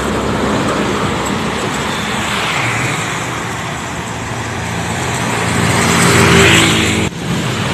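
A Garuda Mas bus passing on a toll road, heard as a steady roadway roar that swells to a loud peak near the end before cutting off abruptly.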